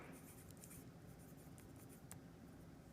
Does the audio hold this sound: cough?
no